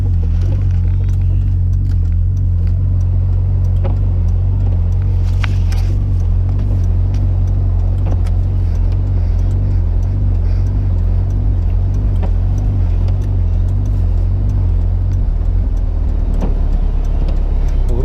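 A car limping along slowly with a torn-out ball joint and hazard lights on, its engine rumbling loud and close in a steady low drone with occasional knocks and rattles.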